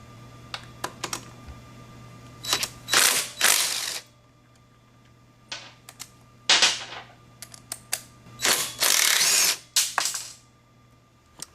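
Ratchet and tool work removing the foot controls from a Kawasaki Z125 Pro motorcycle: bursts of rapid clicking and whirring in irregular clusters, close up, separated by quiet gaps, with no voices.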